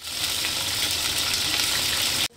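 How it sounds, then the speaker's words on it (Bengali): Flat beans, papaya and yardlong beans fry together in oil for sukto, giving a dense, steady hiss that stops abruptly near the end. "এই তিনটে একসাথে ভাজা হবে"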